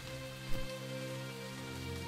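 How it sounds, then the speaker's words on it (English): Rain in the video game Starbound, a steady patter of drops on surfaces with a faint tonal hum from the game underneath and one brief louder knock. "Sounds like it's raining."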